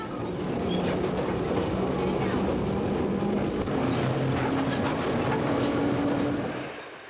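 A South Shore interurban electric train runs westbound on a very cold day near 130th Street, its steady rumble and rail rattle filling the whole stretch before easing off at the end.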